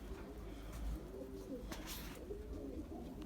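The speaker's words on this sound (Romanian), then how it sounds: "Uite, mai am aici niște porumbei frumoși." Pigeons coo repeatedly at close range in a loft with their nesting birds, soft low rolling calls continuing steadily over constant background hum, with no talking.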